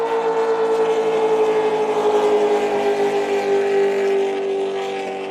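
A big block Maritimo-built racing powerboat engine roars at a SuperSport race on Lake Macquarie, a loud, steady, close drone that holds its pitch and eases slightly toward the end.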